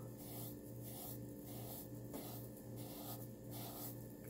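Scrubbing a stain on an American Girl doll with a baking soda and water paste, a steady rasping rub repeated in even back-and-forth strokes, close and continuous with no talking.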